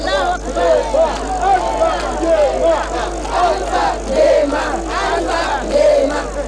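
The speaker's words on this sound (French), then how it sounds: "les deux présidents sont accueillis par une foule spontanément mobilisée pour la circonstance" Outdoor crowd in Kaloum, Conakry, welcoming two visiting presidents, a steady roar of cheering voices and shouts with vehicles moving nearby, dense and fairly loud throughout.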